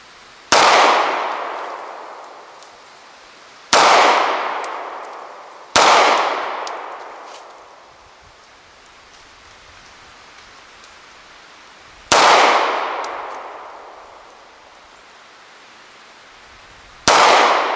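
A Walther P38 pistol fires at water bottles on an outdoor shooting range: five loud single shots spaced a few seconds apart, each with a long echoing decay. No one speaks.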